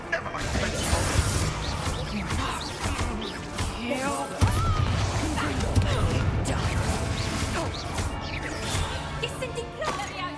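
Glass smashing and shattering during a spell-casting fight in Hogwarts Legacy, repeated crashes, whooshes and impacts through a dense battle mix with voices.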